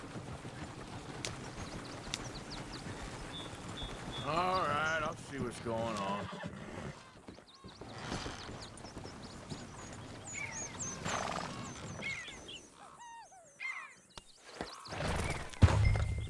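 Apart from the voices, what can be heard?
horse in video game Red Dead Redemption 2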